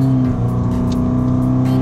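A car running on forged wheels corners and accelerates, its engine holding a loud, steady drone close by without a break and no talk.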